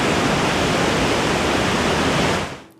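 A river roars with a loud, continuous, broadband rush of turbulent water that holds steady before fading out at the end, with no voices.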